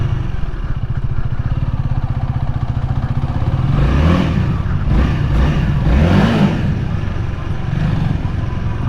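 Honda Rebel 300 motorcycle idling in a parking lot, then revved twice in sharp rising bursts that fall back to a lumpy idle, close to the rider and alone.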